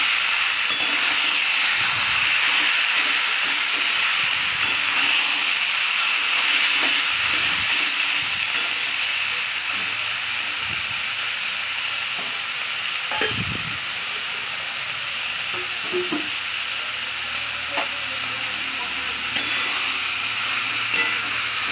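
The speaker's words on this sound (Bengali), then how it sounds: "মাংসটা ঢেলে দিলাম। দিয়ে ভালো করে নাড়াচাড়া করে নিচ্ছি।" Chicken pieces sizzle steadily in hot oil with onion, garlic, ginger and spices for a Bengali chicken stew, a constant close frying hiss with occasional soft scrapes and knocks of stirring.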